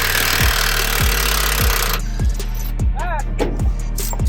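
An impact wrench works on a shock bolt of a first-generation Ford Raptor with bent shock shafts, hammering in short regular bursts about every half second over loud shop noise, with voices in the background.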